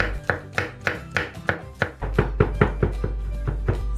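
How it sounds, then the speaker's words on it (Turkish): Roughly ten garlic cloves being finely chopped with a knife on a board, a steady run of sharp, close knocks about every quarter second over a low background hum, with no voices. "Yaklaşık 10 adet sarımsağı ince ince doğruyorum."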